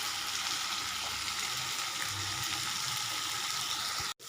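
Ivy gourd curry cooking uncovered on a low flame, a soft steady sizzle and bubbling simmer throughout, quiet and even, with a brief knock near the end.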